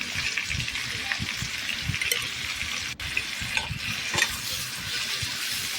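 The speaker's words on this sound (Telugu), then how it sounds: "ఇవి వేగడం కోసం అని చెప్పి ఆనియన్స్ ఇవి వేసాను" Sliced onions and green chillies fry in a pan for a gongura egg curry, a steady close sizzle with soft stirring scrapes and occasional crackles, and no one talking.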